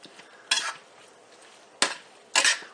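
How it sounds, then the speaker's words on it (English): Three separate bursts of scraping and clattering as ingredients for a Philly beef and Swiss dish are stirred in a pan, with quiet pauses between strokes and no talking. "Mix this all up."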